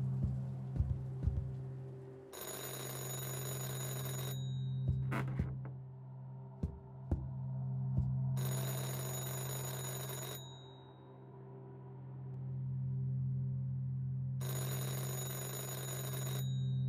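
A telephone rings in the horror video game Anthology of Fear, three long bursts of bright electronic ringing separated by pauses, heard over a steady low game drone with a few sharp knocks.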